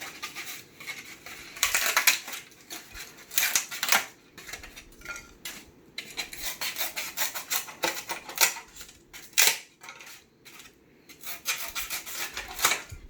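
A knife cuts a piece of styrofoam for printmaking, producing close, bursty scratching and squeaking strokes in an uneven rhythm, with short pauses between strokes.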